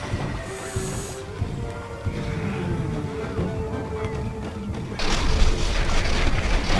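Game weapons fire and booming explosions from Plants vs Zombies Garden Warfare 2, a continuous dense barrage of shots and blasts that swells louder near the end, with no talking over it.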